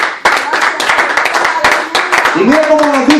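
Church congregation applauding, a dense wash of many hands clapping at moderate distance with a voice speaking over it, and a tone rising toward the end.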